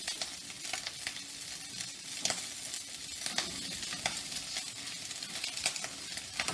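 Ingredients fry and sizzle in a paella pan while being stirred, a steady crackling hiss broken by irregular scraping and clinking strokes of the utensil, close up and alone.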